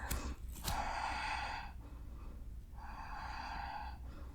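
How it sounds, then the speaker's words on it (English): Deep, slow breaths taken while holding an upright yoga hip stretch, two long airy exhales in succession, close and fairly quiet with no talking. "Keep it upright, 3 deep breaths."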